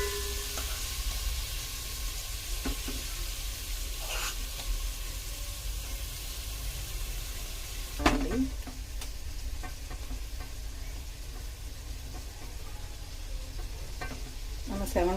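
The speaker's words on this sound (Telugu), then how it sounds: "ఇప్పుడు మనం ఈ మసాలా వంకాయ వేసుకుందామండి" Masala-stuffed eggplant for biryani sizzles and hisses steadily in a hot pan, close and continuous, with occasional scraping stirs and clinks punctuating the frying.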